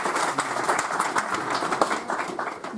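Audience at an international poetry gathering applauding to welcome a speaker, a steady burst of many hands clapping at moderate volume for a few seconds.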